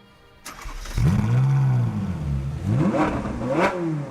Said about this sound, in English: the triple exhaust. Talking of which, let's fire it up.